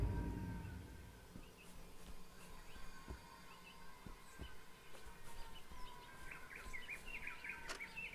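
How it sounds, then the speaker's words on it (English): Chirpy bird calls from the Dead Island game world twitter softly in a faint, humming outdoor ambience, with scattered tweets growing busier toward the end. "God, the bird sounds so bad."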